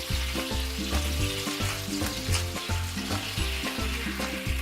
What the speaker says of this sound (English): At this point, you can turn your heat on high to get it up to a boil and let your sauce reduce.